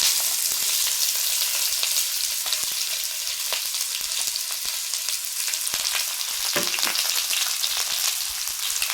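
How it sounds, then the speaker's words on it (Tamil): Onions sautéing in a pan, a bright continuous sizzle and crackle close by, with scattered light clicks of stirring. "இது கொஞ்சம் வதக்கணும் கொஞ்சம் நேரம் வதக்கணும்"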